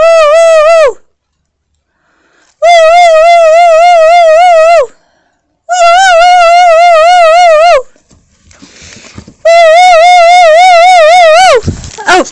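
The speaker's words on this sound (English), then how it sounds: "Can you do the howl?" A Rottweiler howls in long wavering siren-like wails, four sustained bursts separated by short pauses, loud and close, with no other sound between them.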